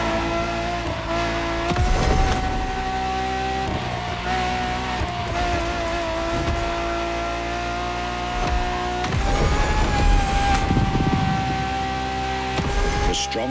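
Ferrari hybrid naturally aspirated V12 in The Crew Motorfest, a loud sustained engine roar that rises and shifts through gears, with tyre squeal and brief bursts of revving, no voices.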